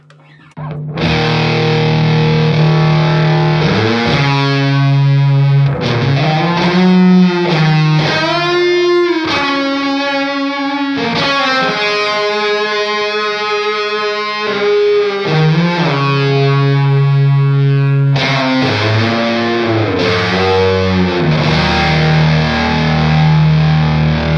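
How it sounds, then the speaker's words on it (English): A distorted electric guitar plays a sustained lead melody, each note trailed by short and long delay repeats that blur into a wide, echoing wash. "I kick on a long delay with that, let's hear that."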